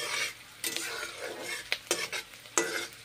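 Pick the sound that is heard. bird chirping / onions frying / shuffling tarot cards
onions frying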